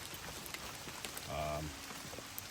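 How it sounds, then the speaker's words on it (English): Rain begins falling at an outdoor shooting range as a dense, steady patter of drops on surfaces close by, with a brief low murmur partway through. "I should love how it's starting to rain"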